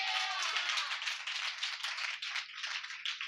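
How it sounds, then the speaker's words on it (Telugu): A church congregation clapping loudly together, a dense, fast patter of many hands that holds steady for a few seconds, with no one speaking over it. "చప్పట్లు కొట్టండి గట్టిగా."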